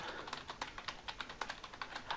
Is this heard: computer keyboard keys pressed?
yes